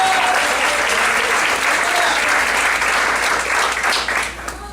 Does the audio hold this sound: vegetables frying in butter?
no